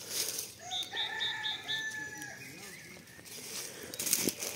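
Laying hens cluck and call close by in a busy coop, with a rooster crowing and wings fluttering amid the steady chatter.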